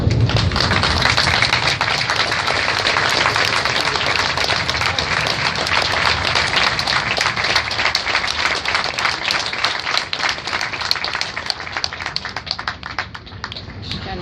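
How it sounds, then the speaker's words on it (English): Sustained applause from a graduation audience at a US Marine Corps recruit ceremony, dense and loud clapping from a large crowd that holds steady and tapers slightly near the end. "please join us in a round of applause"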